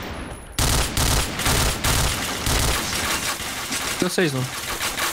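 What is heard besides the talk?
gunfire in the video game Point Blank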